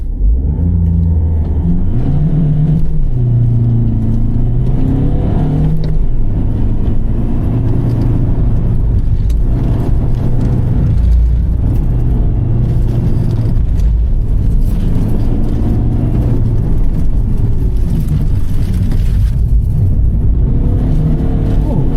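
A 1,500 kg diesel MPV racing uphill at Cadwell Park during a sprint event, its engine droning loudly and steadily under load with gear changes and shifting revs, heard from inside the car.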